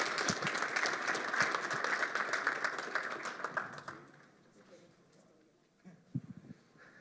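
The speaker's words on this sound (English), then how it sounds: "please give a round of applause to our esteemed panelists" An audience claps in loud, dense applause that fades out after a few seconds, followed by quiet room noise and a few faint thumps.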